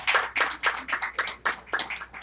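Sparse, uneven hand clapping from a small audience at a certificate and honors ceremony, about a dozen distinct claps over a couple of seconds, close and moderately loud.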